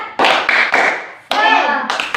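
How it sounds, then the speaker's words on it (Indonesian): A sixth-grade primary class performs a rhythmic patterned clap chant: sharp hand claps in a quick sequence, interleaved with children's voices chanting together, close and lively. "Yuk tepuk semangat."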